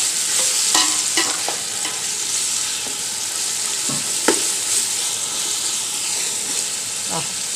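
Onions frying in a pan for homemade chicken biryani, a loud continuous sizzle with repeated stirring scrapes and clinks of a spoon against the pan.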